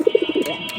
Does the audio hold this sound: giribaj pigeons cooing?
yes